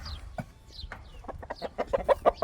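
Chickens cluck in a series of short, clipped calls that grow louder and more frequent toward the end, close by with no talking.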